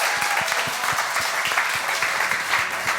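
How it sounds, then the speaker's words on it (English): Steady, dense applause from a church congregation, many hands clapping continuously at a lively pace with no pauses. "So let's give them a round of applause."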